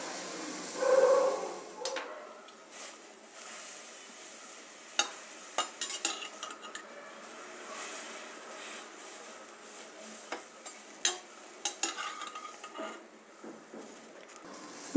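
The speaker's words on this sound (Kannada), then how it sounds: "ಈಗ ಸಬ್ಬಸಿಗೆ ಸೊಪ್ಪನ್ನ ಹುರಿಯೋದು. ಸಣ್ಣ ಉರಿನಲ್ಲಿ ನಿಧಾನಕ್ಕೆ ಹುರಿಬೇಕು" Dill leaves dry-roasting slowly in a pan over low heat, with soft scraping and stirring taps scattered through a quiet, faint background hiss.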